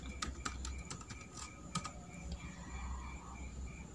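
Keystrokes on a computer keyboard, a quick irregular run of light clicks, close but quiet, followed by a softer stretch with a few scattered taps over a faint background hum.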